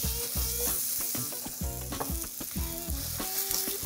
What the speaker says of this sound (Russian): Пока у нас жарится, пожарить нужно нормально.